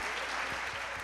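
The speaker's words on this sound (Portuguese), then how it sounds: "Uma salva de palmas para André" An audience at a church panel event applauds in a brief, steady burst of clapping that runs the whole second, fairly faint and distant.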